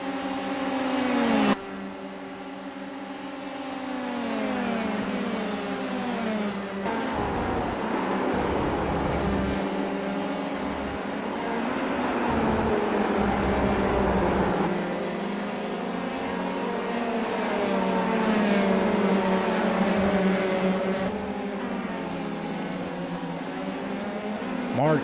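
Dallara single-seater race cars at Spa in a Belgian Grand Prix event ride over a curb, their engines droning and shifting pitch continuously at a steady, loud level, with a commentator's voice talking over them.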